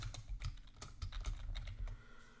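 Rapid, uneven keystrokes on a computer keyboard, close and fairly loud, clattering out a short word with no one talking.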